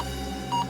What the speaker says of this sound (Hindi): पिंकी की चाची रोमा के मोबाइल फोन पे एक कॉल आ रहा है।